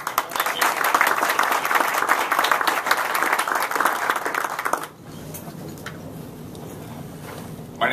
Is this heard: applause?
yes